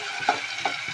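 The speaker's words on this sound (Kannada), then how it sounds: "ಟೊಮೆಟೊ ಹಾಕ್ತಾಯಿದ್ದೀನಿ." Tomato being added to a hot frying pan along with salt and chili powder, giving a steady close sizzle with a couple of brief scraping stirs over about a second.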